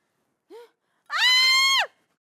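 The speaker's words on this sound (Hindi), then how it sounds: "ये कौन चीखा?" A short yelp, then a loud, sustained high-pitched scream lasting under a second, alone and close, in a comedy scene set at a funeral.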